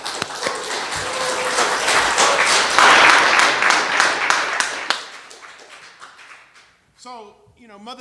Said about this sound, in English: Why don't we give ourselves a round of applause for that?